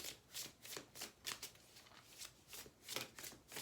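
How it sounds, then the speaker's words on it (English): Teal Swan frequency oracle cards being shuffled, a quiet, close riffling that comes in repeated rhythmic bursts about every half second, with no talking. "I'm gonna do my Teal Swan frequency cards"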